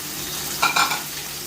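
Chopped onions drop into heated oil for a village-style country chicken curry, hissing steadily, with a brief pair of louder stirring scrapes and crackles in the middle before the sizzle settles back to an even simmer.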